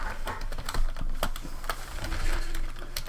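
Fingers type on a computer keyboard while editing an Emacs configuration, a steady patter of close, crisp key clicks with uneven rhythm and no talk.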